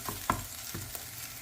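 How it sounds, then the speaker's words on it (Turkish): Tomato and pepper paste sautés in a pan with a constant soft sizzle and a few quiet stirring taps, faint and steady throughout. "Birkaç dakika boyunca salçalarımı da güzelce kavurdum"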